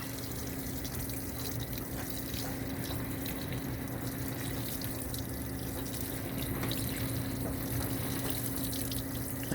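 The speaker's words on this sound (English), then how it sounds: "I see the water starting to build up in there." A GE top load washing machine, model GTW465AN2WW, fills with water on a bulky items deep-fill cycle, a steady rushing water stream with faint hum and pump drone, continuous and moderately loud, with no talk.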